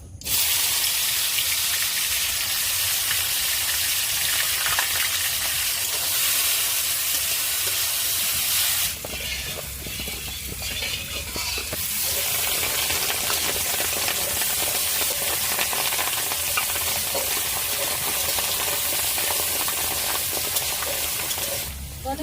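Potatoes fry in oil with a steady, loud sizzling hiss that briefly dips and flares again midway, no voices.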